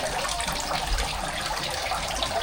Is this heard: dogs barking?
no